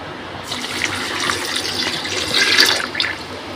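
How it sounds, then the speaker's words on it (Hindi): Pineapple juice poured into a mix for a pina colada, a continuous close, loud splashing stream of liquid lasting a few seconds, with no talk. "उसके बाद हम इसमें डालेंगे पाइनएप्पल जूस।"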